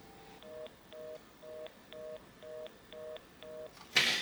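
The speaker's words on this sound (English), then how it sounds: "So that was the busy tone." Landline phone left off the hook too long, giving a fast busy tone: seven evenly spaced short beeps, fairly quiet and alone, ending in a sudden loud burst of noise.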